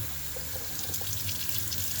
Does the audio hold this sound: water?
yes